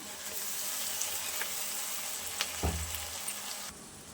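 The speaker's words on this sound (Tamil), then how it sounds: "தக்காளியோட பச்சை வாசனை போகிற வரைக்கும் நல்லா நம்ம வதக்கி எடுத்துக்கலாம்" Tomato paste sautéing in a pan for a capsicum butter chicken gravy gives a steady, close sizzle, with a brief clunk of stirring partway through.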